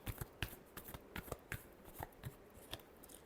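Tarot cards shuffled by hand in a steady series of soft, close riffles and taps, fairly quiet and evenly spaced with no talk.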